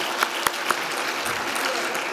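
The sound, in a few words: audience applauding at award ceremony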